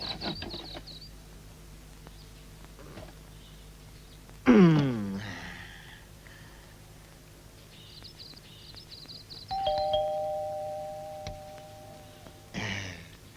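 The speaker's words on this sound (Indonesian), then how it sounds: "Mau nyolong bel ya? Enggak, saya mau pijit." An electric doorbell sounds a steady, sustained ring of about three seconds, set among thumps and scuffling noises with brief gaps of quiet.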